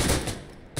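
A headshot gunshot in the Insurgency: Sandstorm video game on Xbox Series X, heard as a short sharp crack at the start with a brief echoing tail and a second quieter report near the end.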